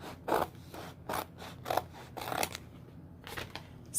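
Scissors cutting a sheet of glitter heat transfer vinyl for a sweatshirt appliqué make a run of short rasping snips in an uneven rhythm, close and fairly loud, with no talking.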